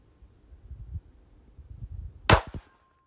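A pistol fires one sharp, close gunshot with a quick secondary crack right after, following a stretch of quiet handling noises.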